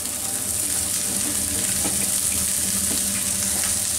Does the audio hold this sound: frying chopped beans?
yes